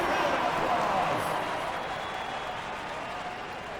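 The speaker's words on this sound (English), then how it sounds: "Give yourself a round of applause." An arena crowd at a Pacers vs Timberwolves basketball game applauds with a steady wash of clapping and cheering that holds at an even level throughout and slowly eases off.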